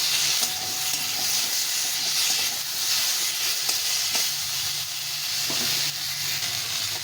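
Dried and green chillies, ginger and garlic fry in hot oil, a loud, steady broadband sizzle and hiss lasting throughout, with occasional faint clicks of stirring and no voices.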